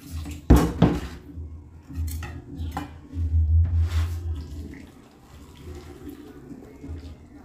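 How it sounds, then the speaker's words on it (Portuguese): Hot water is poured over chicken in a pot in a home kitchen, with a sharp clank of cookware, splashing water and scraping clatter, then a heavier rushing pour midway before it quiets down. "Agora é que eu vou jogar água quente em cima."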